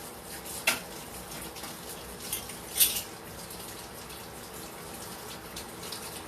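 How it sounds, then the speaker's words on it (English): Water from a kitchen tap runs steadily over a spoon to rinse off honey, with a few brief clinks of metal against the sink, close and moderately quiet, with no speech. "So there is the honey. Let's rinse that out."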